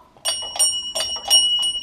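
Notification bell sound effect: a bright, close ringing chime struck several times in quick succession, each strike leaving shimmering overtones, heard alone.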